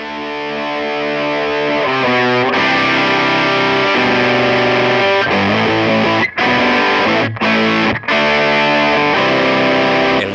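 Electric guitar played through a Proco Rat 2 distortion pedal, loud saturated chords and sustained riffs ringing out with a few brief stops, no voice over it.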